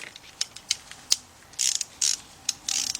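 A 3/8-drive ratchet with a 13 mm deep socket works on a Chrysler engine's timing cover, giving close, crisp clicking strokes in short irregular bursts, with no speech.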